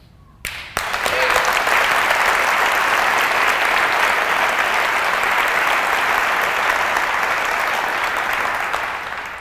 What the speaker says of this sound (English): that's the thing that's gonna get the loudest clap so far from this conversation